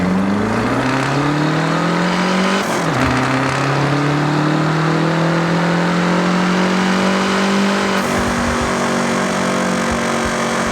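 In Forza Horizon 6, a car with a street exhaust revs steadily with a throaty, Subaru-like exhaust note, pitch climbing in long pulls broken by two brief gear shifts, loud and continuous with no talking.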